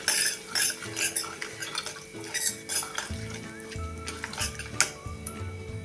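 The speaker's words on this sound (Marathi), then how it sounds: "ते आता मिनिटभर असं हलवूया." Chili powder stirred into a hot oil tempering for amti, a lentil curry, with a spoon scraping and tapping the pan in uneven strokes over a steady low sizzle, close and fairly quiet.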